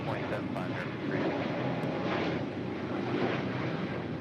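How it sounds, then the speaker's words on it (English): Spirit Airlines A320neo jet taking off from LAX, a continuous wide rumbling engine roar with a gentle swell and slight wind buffeting, steady and fairly distant. "That is Spirit Airlines 2454 departing to Austin, Texas on an A320 Neo"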